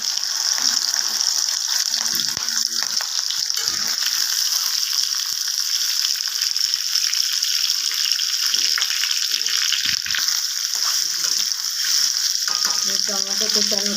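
Boiled potatoes fry in hot oil for a potato curry, a steady loud sizzle running throughout with faint scraping and stirring clatter underneath.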